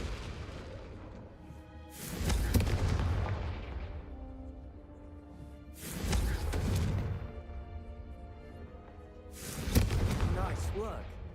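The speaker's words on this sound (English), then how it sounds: "a Confringo cast travels a bit farther than that of a spell like Incendio" Confringo spells are cast in Hogwarts Legacy, firing three heavy, booming blasts spaced a few seconds apart, each with a sharp crack and a long rumbling decay, with a voice talking between them.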